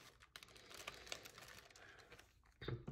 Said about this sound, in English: from here, we just go ahead and zip it up.